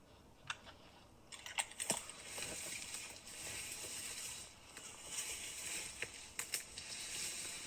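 Quiet, rapid rustling and swishing of a setter's tail wagging through dry brush, with a run of light ticking brushes and occasional louder swipes close by.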